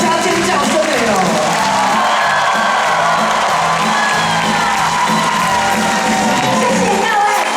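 A concert crowd at a Taiwanese folk-song show in Kaohsiung claps and screams together, a loud, dense wall of cheering, whoops and shouts that holds steady throughout.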